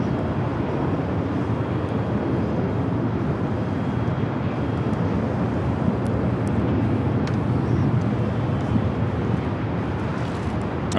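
An American Airlines Dreamliner taxiing at LAX, a steady broadband jet rumble that holds evenly throughout with a constant hiss of wind on the microphone.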